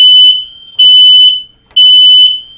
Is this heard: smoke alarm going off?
yes